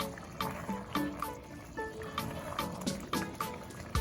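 A pot of Ghanaian spinach stew (kontomire, palava sauce with beef) cooks on the heat, its watery sauce bubbling and popping in a steady run of close, wet bursts with no talking.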